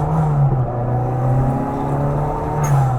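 Classic Mini Cooper with a 1300 A-Series MPI engine fitted with a bolt-on turbo kit, heard from a loud, close engine that holds a steady drone and rises and falls slightly in revs, with a faint whoosh near the end and no talking.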